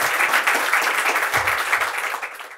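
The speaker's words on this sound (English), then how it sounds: "A big round of applause, guys, for Ankit." Audience applause after a talk on the restaurant industry, a dense wash of many clapping hands held at steady loudness before tapering off near the end, with a faint voice briefly underneath.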